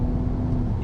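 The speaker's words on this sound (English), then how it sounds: "You've got good engine sound." A V6 sports car engine and exhaust give a brief, steady low drone, close and fairly loud, with no voices.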